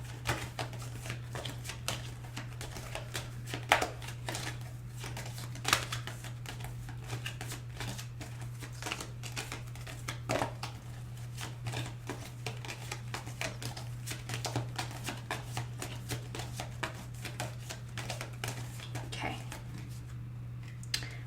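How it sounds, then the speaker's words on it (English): Tarot cards riffle and snap in rapid, continuous shuffling close by, with crisp flicks over a steady low hum. "I'm going to go ahead and shuffle the cards"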